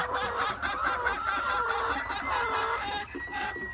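Hens cluck steadily and close by in a coop where they are laying eggs, a dense layered chorus of clucks and calls lasting throughout with no pause.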